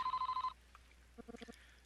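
A telephone rings in the Famicom Detective Club Part 2 game, a bright electronic trill of rapid pulses for half a second, followed by a few soft blips and a short burst of quick beeping tones, all fairly quiet.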